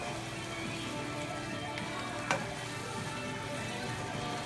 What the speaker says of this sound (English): When you put it in, stir it nice with all the meat